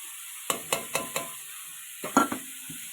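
Radish greens (mulo sag) frying in a pan with crushed dry chilli, a soft sizzle under a series of distinct scraping stirs, about seven strokes in two groups.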